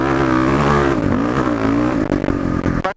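A modified, re-jetted Yamaha WR450F dirt bike engine revs loudly and close, a steady buzzing roar that wavers in pitch before cutting off abruptly near the end.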